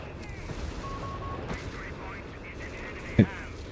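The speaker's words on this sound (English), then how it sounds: "All of these Bishop barrages coming in, causing a ton of manpower bleed" Bishop self-propelled artillery barrages in Company of Heroes 3 land as a steady background rumble of distant fire, with one sharp louder impact near the end and talk running over the battle noise.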